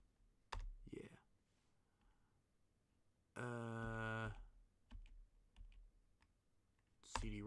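Typing on a computer keyboard during a Windows 98 driver installation: scattered sharp key clicks, close and fairly quiet, with a voice and short bursts of other sound between them.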